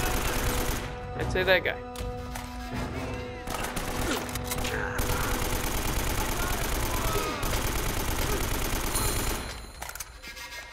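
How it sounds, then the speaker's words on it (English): Rapid automatic gunfire and bursts of shots from the Uncharted video game, loud and sustained through most of the stretch, with someone talking briefly over the shooting. "Who is shooting me?"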